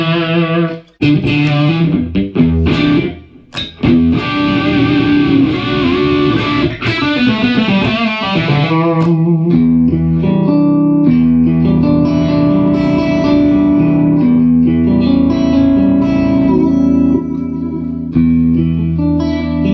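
Electric guitar playing clean tones through effects pedals, washed in reverb, echo and chorus, with plucked notes and chords ringing out steadily and loudly throughout.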